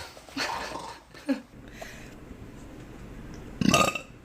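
A woman lets out a couple of loud, throaty burps, one early and one near the end, while a dog whimpers softly nearby.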